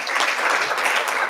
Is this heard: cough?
no